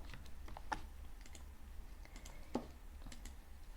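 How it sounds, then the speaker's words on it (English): Quiet, close keystrokes on a computer keyboard as a color name is typed, a sparse, irregular run of light clicks with short pauses over faint room noise. "You have just to write the name of the color."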